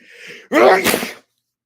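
A single sharp sneeze sounds close and loud, with a short breathy intake before the burst, then silence.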